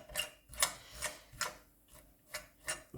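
A brush repeatedly combing through jute rope fibres, a series of about seven distinct scratchy strokes in a loose steady rhythm, close and fairly quiet, with no talking.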